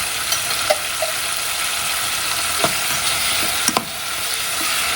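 Masala sizzles steadily in a pan with pepper and ginger garlic paste, a continuous broadband frying hiss broken by a few sharp clicks and scrapes of stirring.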